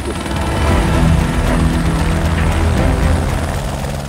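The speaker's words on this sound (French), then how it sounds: "Exceptionnelle car on a peu l'habitude d'utiliser un hélicoptère." A helicopter lifting steel gantry sections off the Rochers Noirs viaduct thumps loud and close with steady rotor beating and engine roar throughout, and no voices.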